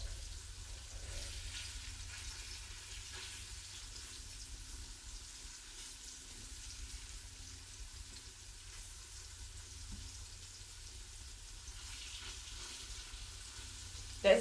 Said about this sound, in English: That sizzle is so calming.